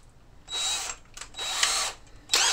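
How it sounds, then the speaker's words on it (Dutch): Power drill boring a hole for a water pipe in two loud bursts of high whining spin separated by a short pause, then a third brief burst starting at the end. "Maar ik moet nog even een gat boren hiernaast. Voor de waterleiding."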